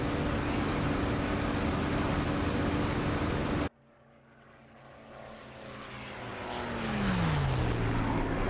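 A burning propeller fighter diving toward the ground in the WW2 combat flight game DCS, likely an FW 190A-8 or Spitfire IX: a loud, steady engine roar cuts off abruptly, then a rising wind-rush whine builds as the dive steepens.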